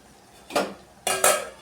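Metal utensil scraping and clinking against a pot as peeled garlic is mixed into rasam (a gourd rasam), two or three short, close clatters separated by brief quiet.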